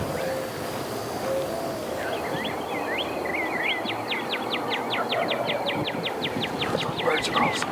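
Wild turkeys call from across a road in Texas turkey-hunting country, a rapid series of sharp, evenly spaced gobbles and clucks heard at a moderate distance over steady outdoor background noise.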